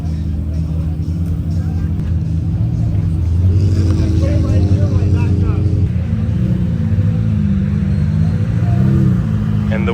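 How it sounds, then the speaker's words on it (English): Supercars, including a Bugatti Chiron and a Koenigsegg Agera RS, roll into a car show with a deep engine rumble that swells and revs nearby while people talk over it. "some serious cars are coming in right now"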